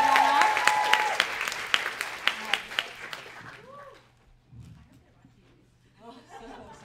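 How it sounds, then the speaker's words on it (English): An audience at a young-adult fan festival bursts into loud, dense clapping for about three seconds, then the applause fades quickly, leaving scattered quieter voices and murmuring in the room. "we can give Garth a round of applause for being part of our"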